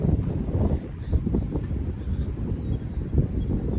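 Gusty wind buffets the microphone in low rumbling surges, loud and close, with a faint rustle underneath.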